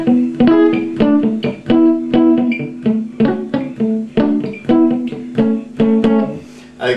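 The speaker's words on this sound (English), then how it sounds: "the guitar strumming is done in a type of a calypso raking effect with the strings muted partially with the back of the hand" Acoustic guitar strummed with a calypso raking stroke, the strings partly muted by the back of the hand. Percussive, slightly choked strums fall in a steady, bouncy rhythm, close and fairly loud, with no voices.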